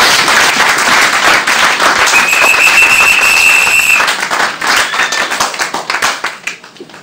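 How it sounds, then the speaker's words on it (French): A church congregation bursts into dense, loud clapping to acclaim the Lord, with a high whistle cutting through midway before the applause thins out toward the end. "Est-ce qu'on peut acclamer le Seigneur?"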